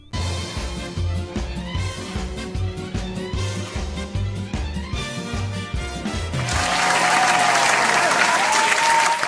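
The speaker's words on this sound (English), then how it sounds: "Yes, you should be clapping right now." Applause from a crowd in the game South Park: Phone Destroyer swells in over a looping musical backing, building into dense, loud clapping near the end.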